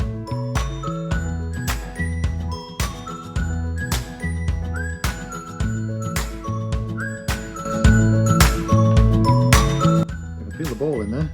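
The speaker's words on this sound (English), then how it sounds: "So I found a CROTAL bell today, get all that mud out and actually see if it still rings." A medieval crotal bell, still partly clogged with mud and with its loose ball inside, is shaken repeatedly, giving bright, tinkling jingles in irregular bursts, close and clear.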